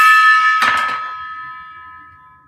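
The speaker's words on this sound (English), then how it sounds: "Smash a gong for good luck." A gong is struck for good luck, giving a loud, bright metallic ring with a clanging hit partway through, then a long shimmering tone that slowly fades, with no voices.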